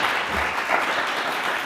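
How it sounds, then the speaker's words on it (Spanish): Welcoming applause from an audience at a Spanish national awards lecture series event honoring Alfredo Sanzol, dense steady clapping filling the whole short stretch without any voices. "les pido un aplauso de bienvenida"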